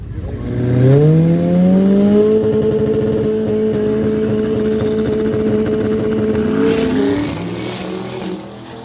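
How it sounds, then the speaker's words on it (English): A drag-racing car at a beach racing event winds its engine up for a burnout. The revs climb steeply in a loud, close roar, hold at a steady high pitch for several seconds, then drop away. "I'm just doing 1 burnout."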